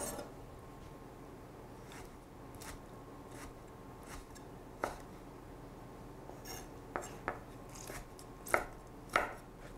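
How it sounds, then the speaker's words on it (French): A knife cuts vegetable flesh into strips on a board, giving sparse, irregular thuds and taps, quiet and close, with pauses between cuts. "Et on va les couper en lanières."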